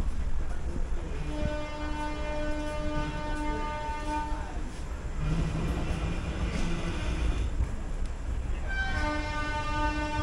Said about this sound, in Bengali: মেচেদা থেকে ট্রেন ছেড়েও দিল